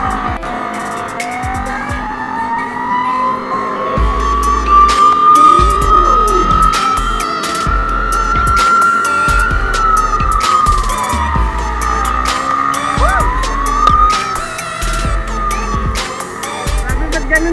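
A wailing ambulance siren rises and falls in long sweeps, passing nearby amid car engine noise and the squeal of tires.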